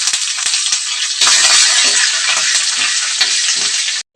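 Cumin seeds and curry leaves hit hot tempering oil for a dal and ridge gourd chutney, a loud continuous sizzle and crackle close by that flares up after the leaves go in and stops abruptly at the end.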